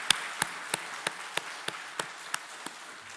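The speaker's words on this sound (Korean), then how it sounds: "우리 시간 그동안 베푸신 하나님의 은혜에 감사하면서 영광의 박수를 우리 하나님께 올려드렸으면 좋겠습니다." A church congregation at a Sunday morning worship service claps in unison, about ten sharp, evenly spaced claps in a steady rhythm with no talking.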